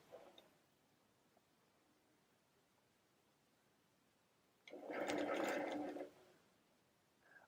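A sewing machine stitches a feathered quilt wreath in one steady, fairly loud burst of about a second and a half, starting after a quiet stretch, with faint rustles around it.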